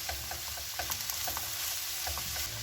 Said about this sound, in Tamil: இப்போ இது ரெண்டையும் வந்து நல்லா கலந்து விடுவோம்